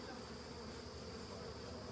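A swarm of bees hums steadily and continuously at close range, a dense even drone with no talking over it.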